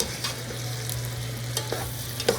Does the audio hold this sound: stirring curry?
yes